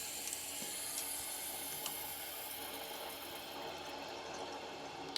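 Water flowing slowly into a tankless water heater system during a flush, a soft steady hiss and trickle of running liquid at low level, with a few faint clicks and no talking.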